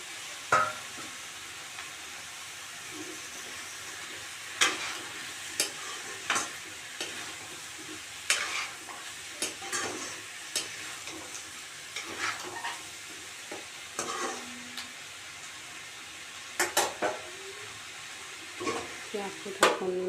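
Cut potatoes tumble into a pot for boiled chicken and get stirred, giving a faint background simmer with a series of irregular clanks and scrapes of a ladle spread across the stretch.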